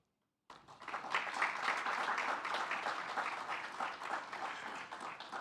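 An audience at a forum panel applauds to welcome the chairman, steady sustained clapping from many hands that starts abruptly after a moment of silence.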